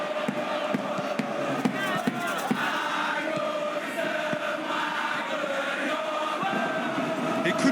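Football match crowd at a pre-season game between Terengganu FC and Perak FA, a continuous loud roar of many voices with scattered sharp claps and shouts throughout.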